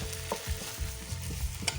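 Chicken tikka pieces are turned over in a covered pan, with a few soft scraping and tapping movements over a gentle background sizzle, brief and close, without voices.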